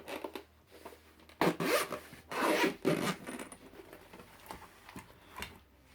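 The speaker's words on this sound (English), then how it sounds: "there's a zip here, so you have to open with a zip." Zipper on a portable vehicle jump starter's carrying case pulled open in a few quick rasping strokes, close and fairly quiet, with small handling rubs and taps between them.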